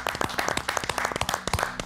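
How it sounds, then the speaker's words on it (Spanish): A television studio audience claps for a veteran Argentine television actress, a close, lively patter of many individual hand claps over a short stretch. "Así que gracias Pinky, un aplauso grande para la señora"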